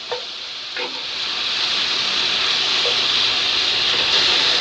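Ground beef and half a small white onion sizzling in a camp pan, a continuous steady hiss that builds slightly after a couple of faint clinks, close and fairly loud, no talking.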